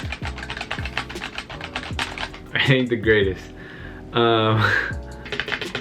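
Fast, close clicks of typing on the mechanical keyboard bundled with a Digital Storm Lynx Level 4 gaming PC run in a steady patter, with someone speaking briefly partway through.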